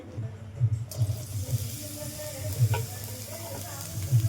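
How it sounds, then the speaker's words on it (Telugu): Beans, carrot and onion pieces fry in hot oil in a pan with a steady close sizzle, under soft stirring and scraping sounds, with no talk over it. "వీటిని మనం డైరెక్ట్ అందులో వేయకుండా కొద్దిగా ఆయిల్లో వేయించుకోవాలి"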